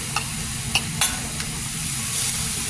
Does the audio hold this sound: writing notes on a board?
no